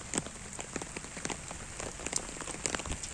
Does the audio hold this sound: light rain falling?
yes